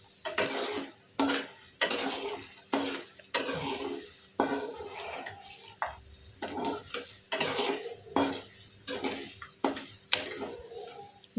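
A spoon scrapes and clatters rhythmically in a pan while lemon rice fries, the strokes recurring roughly every second over a faint sizzle.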